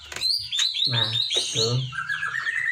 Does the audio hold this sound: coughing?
no